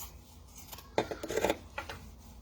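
Scissors cutting and trimming vinyl wallet material give a few close, quiet snips and rasping rubs, with a denser burst of trimming around the middle and another brief cut near the end.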